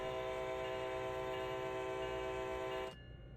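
A locomotive horn in Train Sim World blares as one long, steady, loud chord just before departure, then cuts off abruptly, leaving quiet engine rumble.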